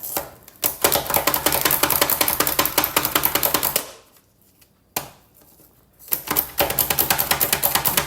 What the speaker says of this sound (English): I've got my food chopper, so I'm gonna get these chopped up